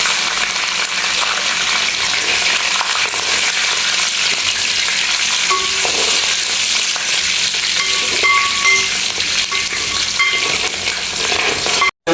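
Green chillies frying in hot oil for a soybean pickle, giving a loud, dense, continuous sizzle with faint stirring under it that ends abruptly.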